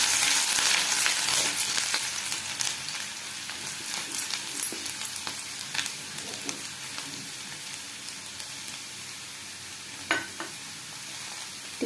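Chopped garlic and ginger frying in hot oil in a wok, a dense continuous sizzle with crackling pops and occasional stirring scrapes, loudest at the start and easing slightly.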